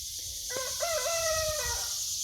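A rooster crows once, a rising then drawn-out cock-a-doodle-doo, over a steady outdoor hiss.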